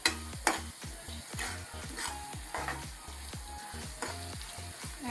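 Ginger garlic paste sizzles in a hot pan as it is stirred in, a steady crackle under rhythmic background music with a thumping low beat.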